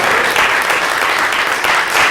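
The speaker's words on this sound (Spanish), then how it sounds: "Le damos un fuerte aplauso al Señor." A church congregation applauds loudly and steadily, a dense wash of clapping from many hands that fills the room for a couple of seconds.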